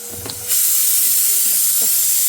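A pressure cooker in a home kitchen abruptly starts venting steam, a loud, steady rushing hiss that begins half a second in and carries on unbroken, with faint kitchen clatter behind it.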